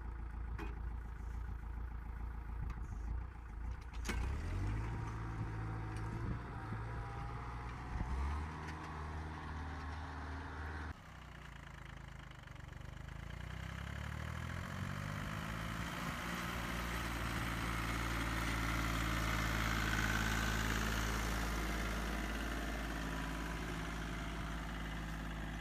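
Mini tractor engine pulling a two-bottom plow through a field, a low steady drone with shifting load and rising revs toward the end, no talking.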